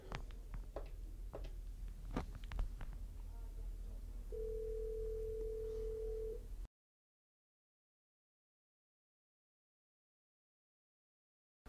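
A Yealink T41/T42 desk phone redials and connects: a few short beeps, then a steady tone lasting about two seconds, heard over low background hiss before silence.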